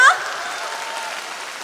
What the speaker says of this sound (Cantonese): 就俾多啲掌聲鼓勵我哋啦！